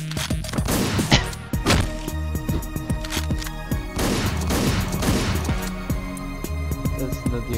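Shotgun blasts in Hotline Miami: repeated sharp, punchy shots spaced a second or so apart, loud and close over driving synth music.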